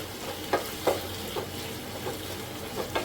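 Tomatoes sauté in a pan for prawn pepper gravy, a constant close sizzle broken by several scraping stir strokes spaced about half a second apart.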